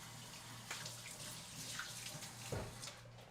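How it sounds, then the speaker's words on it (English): Tap water runs steadily into a kitchen sink as hands are rinsed, a close, continuous splashing hiss with a brief louder gush near the end and no talking. "I'm going to rinse my hands."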